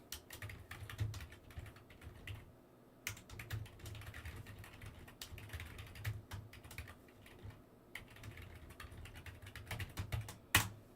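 Soft, quick keystrokes on a computer keyboard tap out a note in irregular bursts with short pauses, close and fairly quiet, with no voices.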